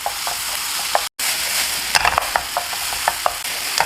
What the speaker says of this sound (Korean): 이제 양파를 볶아서 투명하고 단맛이 나게 만들어줍니다.